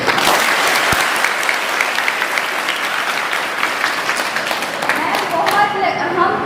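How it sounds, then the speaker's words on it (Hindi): Loud, dense applause from a crowd at a hostel gathering honouring the warden, many hands clapping steadily and close, tapering slightly near the end. "तो मैम के लिए प्लीज़ मैं चाहूँगी कि बहुत तालियां बजें"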